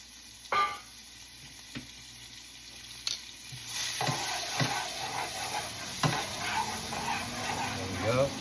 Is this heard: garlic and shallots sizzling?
yes